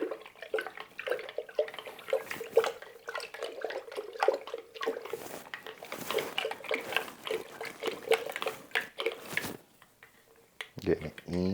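Water runs from a tap into a basin, a quiet uneven trickle and splash that goes on steadily and then briefly stops near the end, with a person talking over it.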